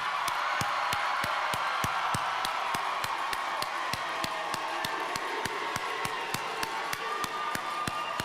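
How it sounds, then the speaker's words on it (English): A graduation audience at Marion-Franklin High School stands and cheers for the graduates, with a broad crowd roar and steady rhythmic clapping throughout. "let's stand up and cheer these graduates on"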